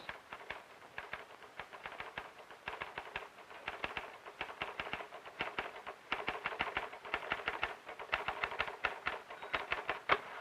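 Steady, rapid clatter of typewriter keys from a 1940s manual machine, many crisp strikes in quick bursts and patterns, continuous and fairly even in loudness with no voices.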